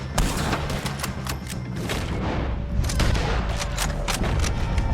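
Rapid gunfire from Red Dead Redemption II crackles without pause, with many sharp, loud shots and booms layered over one another in a dense firefight.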